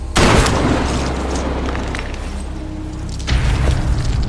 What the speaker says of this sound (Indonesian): Maurel tanpa pikir panjang langsung menembak Frank.